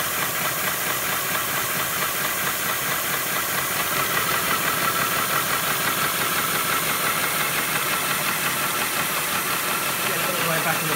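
A 5-inch gauge model steam locomotive running in reverse, a dense steady hiss of steam and exhaust chuffing close by without a break.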